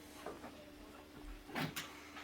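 A locked indoor door leading to a patio is unlocked and opened, giving a few faint mechanical clicks and a short creak, quiet and close, with no talking.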